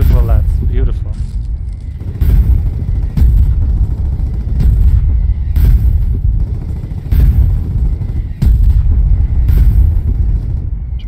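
Gunboat artillery in the video game Foxhole fires a rapid barrage of deep booms, roughly one per second, over a heavy low rumble. Voices talk over the firing throughout.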